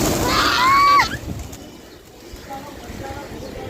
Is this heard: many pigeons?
yes